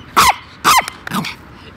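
A Chihuahua barks sharply three times in quick succession, close and loud, with a quieter background afterward.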